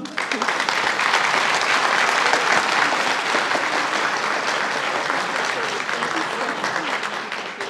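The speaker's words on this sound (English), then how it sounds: "let's give everyone a round of applause, all our speakers" An audience at a scholarship breakfast applauds the speakers warmly, a dense, steady burst of clapping that holds strong and fades slightly toward the end.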